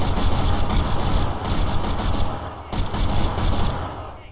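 Sustained ARMA 3 video game gunfire, dense overlapping bursts of rifle and machine-gun shots rattling continuously across the whole stretch, loud and close with brief lulls.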